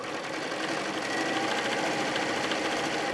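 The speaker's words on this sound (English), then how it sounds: "And I decided to top stitch with red thread." A sewing machine top stitches a fabric book with red thread, running in a steady, continuous whirring hum throughout.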